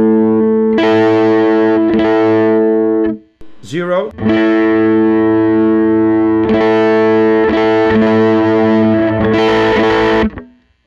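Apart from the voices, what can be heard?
Teye La Llama electric guitar, neck plus bridge pickup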